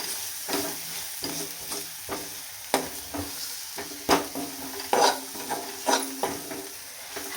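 Chili powder masala is stirred in a pan, a soft sizzle running under repeated scraping strokes and clicks of a spoon against the pan, close up with no talk.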